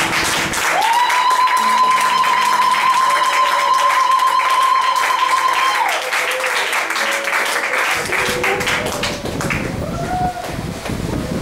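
A church congregation at a seminary claps and acclaims in sustained, loud applause, with a held tone and voices mixed in, tapering slightly toward the end.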